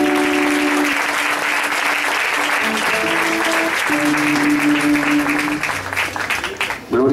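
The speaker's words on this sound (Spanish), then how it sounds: "No sé si le puede dar palmas al Señor." At a church's 44th anniversary gathering, the congregation claps loudly and continuously while held musical tones and voices carry along beneath, the clapping thinning briefly near the end.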